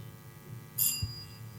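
A quiz competition time bell gives a single short, bright ding over a faint background hum.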